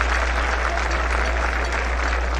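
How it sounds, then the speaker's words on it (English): Center Grove football fans on the near side applaud during a home varsity game against Marion, a dense steady roar of clapping that holds at full strength for a couple of seconds. "Hear the applause from the Center Grove fans here on the near side."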